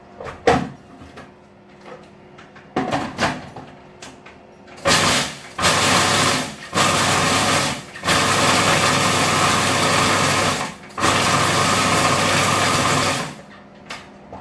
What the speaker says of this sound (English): I'm going to give it a very quick blitz.